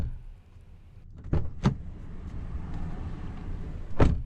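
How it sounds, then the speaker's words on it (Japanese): A Toyota Harrier door shuts with a few solid, muffled thuds heard up close from inside the cabin, followed by a quieter interior hush and one more firm closing thump near the end. "ドア閉めた音、こんな感じです"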